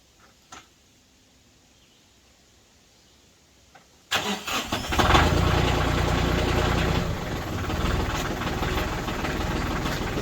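A backhoe engine fires up after a quiet stretch with a few light clunks, then roars loudly and steadily close by as the boom is raised, the tone dropping slightly as it settles into a working run.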